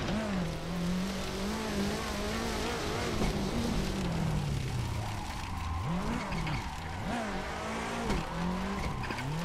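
Car sliding around a rallycross course in a racing game, the engine droning steadily while tires skid and squeal through repeated slides, continuous and close with no talking.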